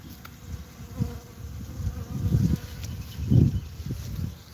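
Honey bees buzz at the entrance of a struggling, mite-infested hive, a close, continuous drone that swells and fades as bees move near.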